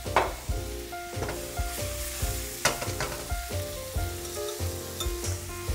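Sliced button and wild mushrooms sizzle in oil in a frying pan, a steady crackle with stirring bursts over background music, no voices.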